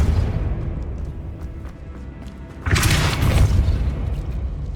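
The Depulso spell lands in Hogwarts Legacy as a sudden, heavy booming burst in the middle, followed by a rumbling wash over low ambient game sound, with no talk.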